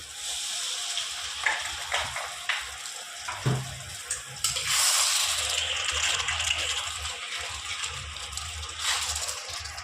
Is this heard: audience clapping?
no